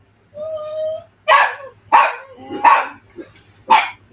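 Several dogs bark indoors in a crafting room, a sharp round of four loud, close barks at a steady pace, following a brief whine.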